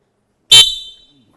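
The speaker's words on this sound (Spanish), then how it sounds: "cuando yo dé un pitazo más o menos así" A single sharp whistle blast, loud and close, with a piercing high tone that trails off quickly into silence.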